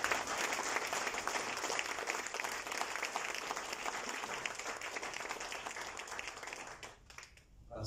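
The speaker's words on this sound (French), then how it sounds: "je voulais vraiment que vous joigniez à moi pour applaudir et" An audience at a round-table event marking ten years of Business Mauritius applauds the president, sustained dense clapping from a crowd that fades out near the end.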